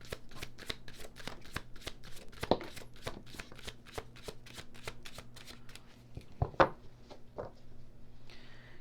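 Tarot cards shuffled by hand in a steady run of crisp riffling flicks, close and fairly loud, with two sharper slaps as cards spill, against a low steady hum and no voices.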